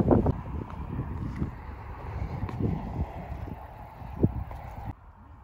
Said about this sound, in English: it's getting kind of windy too